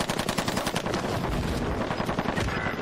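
Call of Duty Warzone gunfire rattles in rapid automatic bursts, loud and close, a continuous stream of sharp shots with no voices over it.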